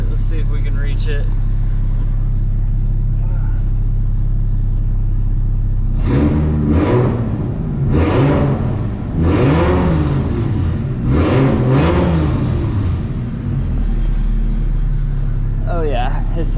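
A 1JZ engine revs hard in a rapid series of rising and falling bursts, loud and close, after a steady idle, with brief talk at the edges.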